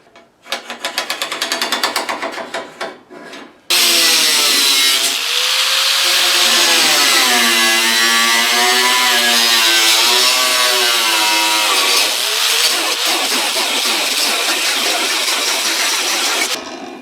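Expanded metal is cut to length with a power tool. After a short rough burst, a loud, sustained, whining grind runs for over ten seconds, with its pitch wavering as the cut progresses, then stops.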